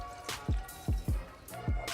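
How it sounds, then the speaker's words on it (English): Water added to a blender for a quick breakfast shake makes a short run of wet plops and drips, about five distinct drops in two seconds, close and fairly quiet. "Now I'm just going to add some water."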